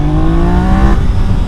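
A Triumph Daytona 660 motorcycle revving hard and accelerating, a loud, close rising engine whine that climbs in pitch for about a second before dropping off.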